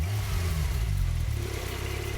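The 3.8-liter flat-six twin-turbo engine of a 2021 Porsche 911 Turbo 992 revs briefly, a loud, close, steady engine drone with no voices over it.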